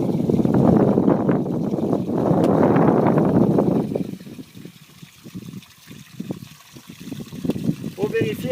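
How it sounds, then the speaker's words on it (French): Strong wind buffets a microphone outdoors beside an RV being drained, a loud roaring rumble that drops partway through to lighter gusts with faint trickling and a voice speaking. "Il vente beaucoup, je ne sais pas si vous entendez le vent."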